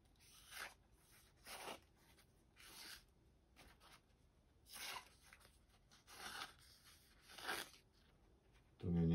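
Knife blade of S390 steel slicing cigarette paper, a series of short dry rustling cuts repeating in an irregular rhythm, close and quiet, followed by a louder bump at the end.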